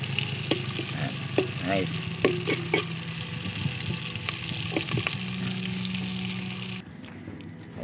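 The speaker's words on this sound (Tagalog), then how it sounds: "magluluto muna ako ng ulam" Food for a meal fries in a pan with a steady sizzle while utensils stir and clatter against it. Someone speaks briefly over the sizzle, which cuts off sharply near the end.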